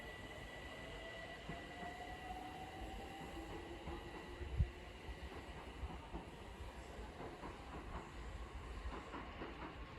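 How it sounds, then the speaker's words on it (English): A London Overground train pulls out of Sydenham station, its rolling rumble faint and distant with a rising whine and light wheel clatter that build toward the end. "Now departing is the 1342 London Overground service from Hybri and Islington to Crystal Palace."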